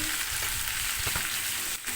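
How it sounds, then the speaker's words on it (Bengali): A katla fish head fries in hot oil until well browned, crackling loudly and steadily up close, with a few stirring knocks and no talk. "কাতলা মাছের মাথাটা আমি একদম লাল লাল করে ভেজে নিচ্ছি"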